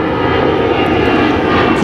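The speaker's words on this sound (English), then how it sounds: "There's another airplane." A fixed-wing airplane passes overhead near the Argo Drain sub-basin construction site in Los Angeles' Playa del Rey, its engine a loud, steady roar that fills the scene without letup.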